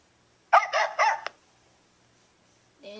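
A short burst of three or four quick dog barks plays as a sound effect, loud and close and alone, followed by silence and a brief sound at the end.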